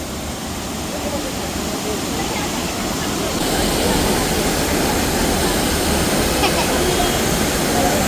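Continuous loud rushing roar of a waterfall near Munnar, steady, close and unbroken, swelling a little halfway through.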